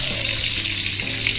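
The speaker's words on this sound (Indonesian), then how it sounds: "setelah direbus tadi kita goreng sebentar aja" Boiled shrimp paste (terasi) fries briefly in hot oil, giving a steady, close, loud sizzle with a faint stirring clatter and no talk over it.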